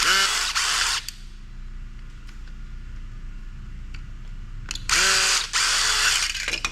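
Power drill or driver backing screws out of a scrap item, two loud whirring bursts with ratcheting clicks at the start and end, separated by a quieter pause with small handling noises.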